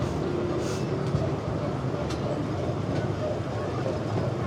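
The Wave ride train at Drayton Manor rumbles past over rapids with a steady clattering roar, moderately loud and continuous, with faint sharp clicks now and then.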